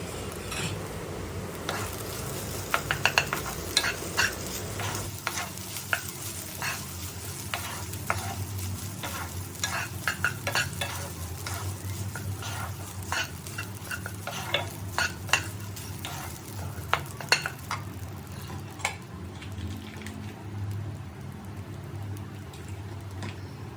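Rice being stir-fried in a pan, a steady sizzle broken by frequent scraping and stirring clicks of a utensil against the pan, close and continuous with no talking.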